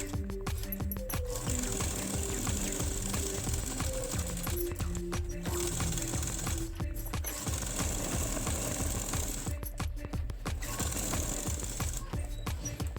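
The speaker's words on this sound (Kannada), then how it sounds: "ರೌಂಡ್ ಶೇಪಲ್ಲಿ ಸ್ಟಿಚ್ ಹಾಕ್ಕೊಳ್ತಾ ಹೋಗೋಣ." A sewing machine runs close by, stitching waste fabric pieces into a round double-sided purse. It buzzes steadily and rapidly, with a few short stops between runs.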